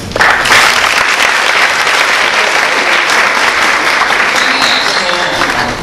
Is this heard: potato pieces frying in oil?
no